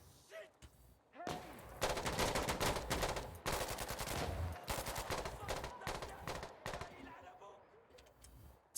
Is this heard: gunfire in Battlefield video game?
yes